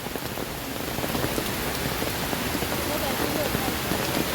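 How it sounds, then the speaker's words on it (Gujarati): A steady, dense downpour of rain falls at the Gaumukh waterfall temple near Songadh, Gujarat, a loud continuous hiss with no break throughout. "ને વરસાદ એ ચાલુ છે એટલે થોડીક વધારે મજા આવે છે"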